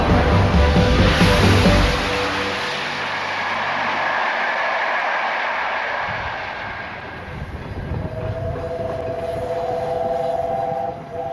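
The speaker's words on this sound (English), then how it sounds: "A steam locomotive on a mission." The Peppercorn-class A1 Pacific steam locomotive Tornado rumbles past with steady clattering and a broad rushing roar, loud at first, then easing into a continuous chugging drone with no voices.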